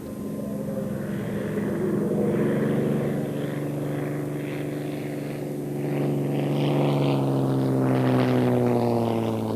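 Propeller aircraft, a Hurricane and a Spitfire of the Battle of Britain Memorial Flight, flying at an air tattoo, their steady piston-engine drone building louder toward the end as they pass.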